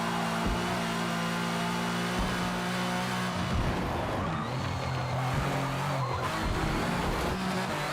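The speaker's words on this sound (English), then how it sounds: "Car just keeps sliding everywhere." A racing video game car skids and slides continuously, with a steady engine drone and tire squeal throughout, loud and close, with no talking.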